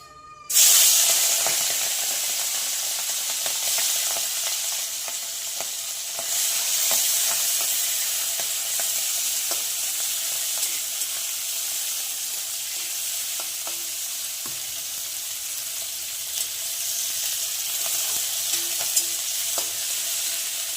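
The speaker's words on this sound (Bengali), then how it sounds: "তো এখন তেলটা গরম হয়ে গেছে, এখন এটাতে চিংড়ি মাছগুলো দিয়ে ভেজে নিবে।" Prawns frying in hot oil for a Bengali malai curry, a steady loud sizzle that flares as they go into the pan and holds as a continuous crackling hiss, with faint stirring clicks and no talk.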